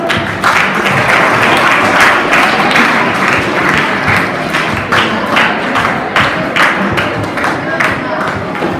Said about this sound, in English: Give a big round of applause, students.